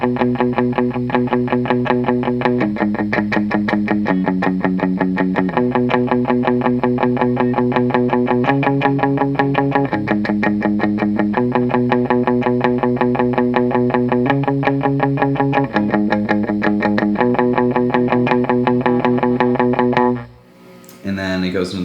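A clean electric guitar plays a simple three-measure intro riff through a dry amp with light compression, steady and sustained for about twenty seconds before cutting off, with no talking.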